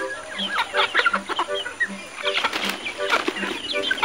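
Chickens on a farm eating young grass cluck repeatedly and close by, with soft rhythmic low clucks and some higher calls over a busy outdoor background.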